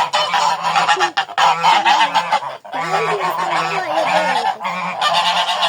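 Geese honk loudly and repeatedly up close near a nest, several birds calling over one another in harsh, overlapping bursts.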